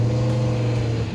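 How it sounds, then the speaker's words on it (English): A black 1958 Ford Anglia hot rod is driven in, its engine a steady loud rumble with a strong low drone, close by and continuous for a moment. "Kevin's bringing the car right now."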